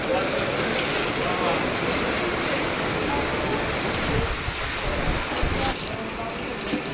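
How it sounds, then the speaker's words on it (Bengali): Heavy rain pours down steadily and loudly, with a dense, unbroken hiss of drops drumming on surfaces close by. "অনেক জোরেই বৃষ্টি পড়ছে দেখো কত জোর বৃষ্টিটা পড়ছে"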